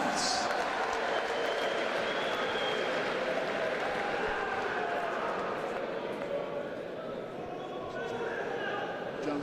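A boxing crowd at a professional fight in Ireland roars for fighter Johan Croft, a broad, continuous wash of cheering and applause filling the arena at steady volume, with voices audible within the noise.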